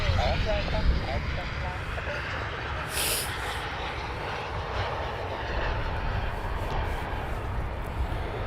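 An Airbus Beluga cargo aircraft flies overhead, its engines making a steady, broad droning rumble that holds across the whole span.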